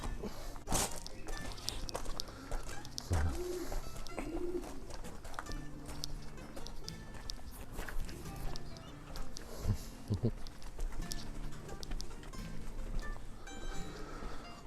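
Racing pigeons coo softly in an English distance loft, with scattered low calls and shuffling movement over a quiet background, and faint voices now and then.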